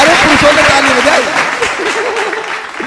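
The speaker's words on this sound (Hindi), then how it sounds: "सारे पुरुषों ने ताली बजाई" Applause at a Hindi poetry recital at a kavi sammelan in Indore. A dense wash of audience clapping continues throughout, while a voice speaks expressively over it.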